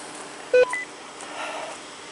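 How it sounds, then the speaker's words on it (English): A single short electronic beep sounds once inside an RV, clear and close, followed by faint background noise. "We are. Beep."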